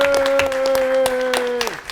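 An audience claps at a San Diego Comic-Con 2018 Skybound Entertainment comics panel, with scattered hand claps under a loud, steady held voice or tone that drops away at the end.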